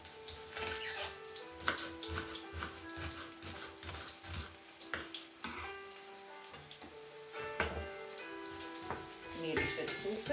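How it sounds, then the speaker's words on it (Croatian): Onion frying in butter oil in a pan, a steady close sizzle and crackle with scattered clinks and stirring knocks throughout, no speech. "Ovo ulje od butera i ovaj crni luk već miriše super."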